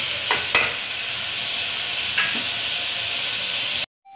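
Tomatoes sauté in a pressure cooker for vegetable kurma, giving a steady close sizzle and hiss with a few sharp stirring clicks, then cutting off abruptly.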